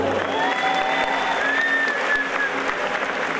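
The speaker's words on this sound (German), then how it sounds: "während die Katrin hier nochmal ihren letzten Applaus kriegt" A crowd applauds at the Gamescom 2014 Blizzard costume contest. The clapping is dense and steady throughout, with faint tonal whistles or music drifting above it.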